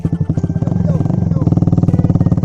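A motorcycle engine idles in a steady, rapid low putter, then rises slightly as it starts to pull away, with voices talking over it throughout.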